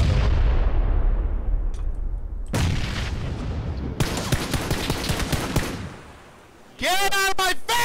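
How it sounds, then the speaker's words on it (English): Grenade explosions in the PUBG video game during squad play: a heavy boom fading into a long rumbling decay, then another loud blast, followed by dense rapid gunfire crackle and a final burst. "He's throwing a grenade. Throwing another one."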